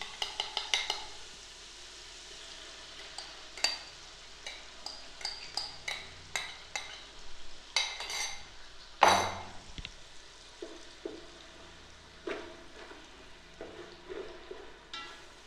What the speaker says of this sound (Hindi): अब हम इसमें डाल देंगे अंडे की जो जर्दी थी, वो एक साइड में डालते हैं ताकि जल्दी से फ्राई हो जाए।